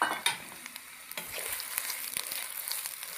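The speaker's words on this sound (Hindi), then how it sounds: "अब मैं इस प्याज को फ्राई कर रहा हूँ" Onion sizzling in a pan for a desi-style bitter gourd curry, a bright steady fry close up with small stirring clicks and pops throughout, no voices.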